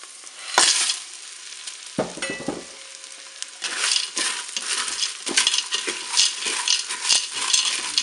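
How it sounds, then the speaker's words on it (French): Dry farfalle pasta tumbles into a Cookeo multicooker with curry and is stirred, giving scraping, rattling pasta against the pot and a steady sizzle, close and fairly loud, with no talking. "Je vais ajouter maintenant mes farfails."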